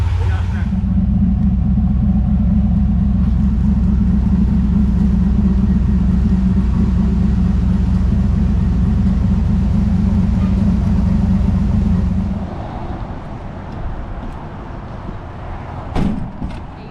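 A 1970 Chevelle with a turbocharged LS3 runs on a dyno, a loud, steady deep engine drone holding for about twelve seconds before dropping away, with voices talking near the end.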